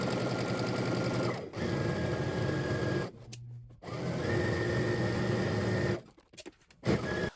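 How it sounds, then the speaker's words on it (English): A sewing machine stitches a garment's side seams from the hem upward in steady bursts, pausing briefly twice before starting again, close and mechanical with no voices. "we're going to head to the sewing machine and starting at the hem, working our way up"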